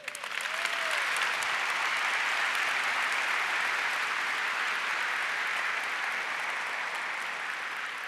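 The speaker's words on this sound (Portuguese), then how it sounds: "Você pode aplaudir o Senhor Jesus?" A church congregation applauds in a sustained, even wash of clapping that rises quickly and holds steady at moderate loudness, with no talking over it.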